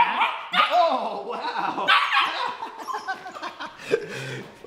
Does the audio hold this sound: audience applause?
no